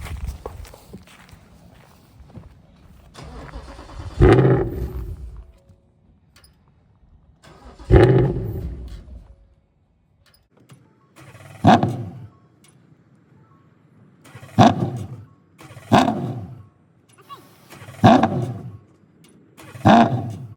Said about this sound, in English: we can't get the car to fire up